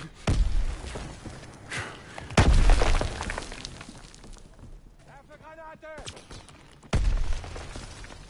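A fighter plane makes a strafing run in a shooter video game, with bursts of heavy impacts and booms hitting near the target, separated by quieter stretches. A short tonal radio-like voice passes between blasts.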